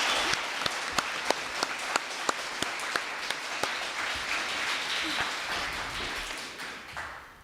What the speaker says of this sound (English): let's give our panel and speakers a big round of applause for an excellent job